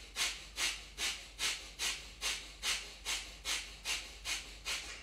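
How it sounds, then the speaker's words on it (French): Breath of fire in a Kundalini yoga class: rapid, rhythmic forced exhales through the nose, about two per second, steady and close with nothing else heard. "on va faire la respiration du feu pendant 1 minute"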